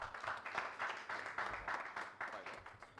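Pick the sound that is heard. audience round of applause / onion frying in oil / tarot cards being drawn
audience round of applause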